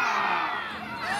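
A crowd of children at an Efteling festival event gives one loud, sustained shout together while striking a dragon's toe in a playful show.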